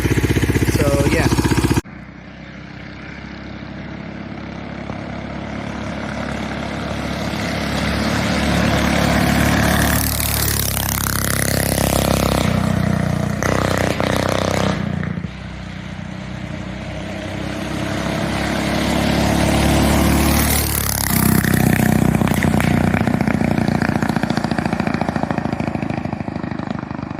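A go kart with a 420cc Predator engine running close by, a steady engine drone that rises and falls through two long revs, with a sudden drop in level near the start.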